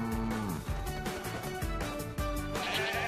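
A cartoon sheep bleats a few times in a lost-lamb story, with wavering cries set over a busy, loud music score.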